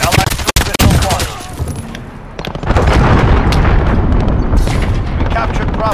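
In Call of Duty Modern Warfare online play, an allied cruise missile strike sets off a heavy burst of explosions, with sharp cracks at the start giving way to a sustained, loud, rumbling barrage.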